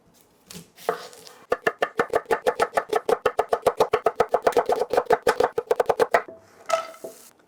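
Onions being chopped with a knife on a cutting board, a fast, even run of about thirty crisp close knocks lasting several seconds before stopping, with a few scattered taps before and after.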